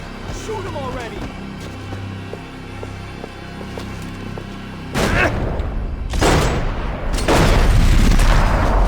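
Gunfire in the video game Max Payne 3: three heavy booming shot bursts hit in the second half over a humming game ambience, with voices shouting in the scene.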